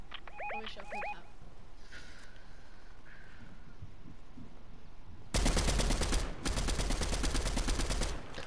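Video game gunfire in a one-gun-only match opens with faint distant shots and electronic beeps, then a loud, rapid automatic burst runs close and continuous for about three seconds.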